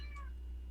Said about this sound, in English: I'm so sorry for that sound. Loud cat.